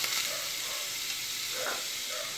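Butter, ghee and olive oil heating in a hot pan, a soft, even sizzling hiss that holds steady throughout with faint tonal clinks, fairly quiet and with no talking.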